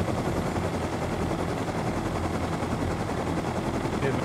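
A helicopter in the Rust video game roars as a loud, dense and continuous rotor and engine drone, thick and steady throughout with no pause.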